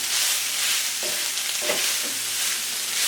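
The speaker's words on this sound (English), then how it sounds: "All it takes is a few minutes to saute." Vegan bulgogi sautéing in a pan: a constant loud sizzle with a few scraping stirs of the utensil rising above it, close up, no voices.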